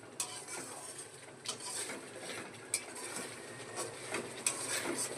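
A ladle stirs and scrapes a spice paste frying in oil in a kadai, soft intermittent clinks over a faint steady sizzle, fairly quiet and close, with no voices.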